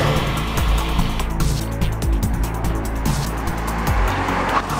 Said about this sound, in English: Patrick, first test, 0 to 62 miles per hour